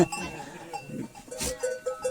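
A goat gives a few short bleats at close range, broken up by rustling and other farmyard noise.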